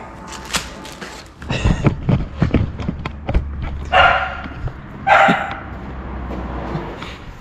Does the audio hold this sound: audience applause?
no